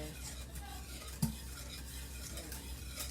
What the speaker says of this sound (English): I'm using a whisk now